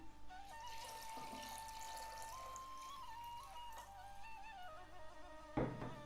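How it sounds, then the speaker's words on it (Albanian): Water runs into a cooking pot holding chicken lungs and a little salt, a faint, steady trickling flow with a brief louder splash near the end. "Shtoj ujë."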